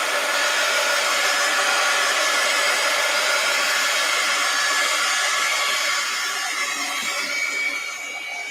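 A hair dryer blows steadily and loudly at close range to dry a freshly worked art journal page, a constant whirring rush that drops a little in level near the end, with no talk.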